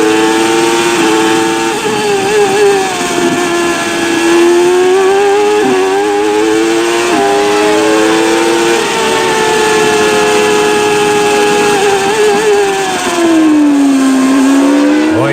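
A 1994 Formula 1 car at the Spanish Grand Prix in Barcelona revs loud and close. Its high engine whine climbs and drops sharply through quick gear changes over the whole stretch, with no voices.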